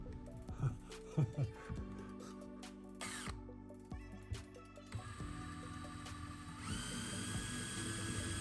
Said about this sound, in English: I need to now drill a hole through this ARE topper to feed the 12-volt wire that's going to go back